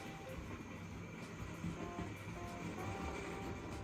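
A Tri-ang Hornby R.850 Flying Scotsman model locomotive with crimson and cream Mk1 coaches runs smoothly through points, giving a faint, steady low rumble and soft whir close by, without speech.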